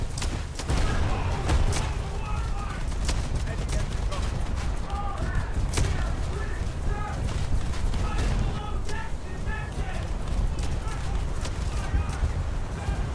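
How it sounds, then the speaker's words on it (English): Dense, continuous bursts of gunfire and explosions from War Thunder, a naval battle game, fill the whole stretch, loud and busy with sharp cracks layered over rumbling noise. "That's a lot of gunfire."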